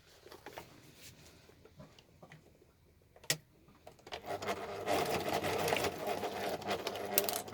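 A sewing machine runs a long basting stitch to join a bum bag, with some quiet handling taps and rubbing at first, then a steady close whirring hum of stitching that continues to the end without speech.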